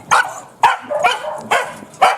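A dog barks in a garden in short sharp bursts, about five close, loud barks at a steady pace with brief whimpers between them.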